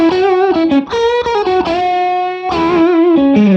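Electric guitar played through a DrZ Maz MKII amp with reverb, sounding loud and close: clear distorted notes and short melodic phrases with ringing sustain, one long held note in the middle, alone without talk.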